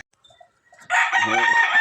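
A gamefowl rooster on a game farm lets out a single loud, close crow that starts abruptly after a quiet moment and holds its raspy call to the end.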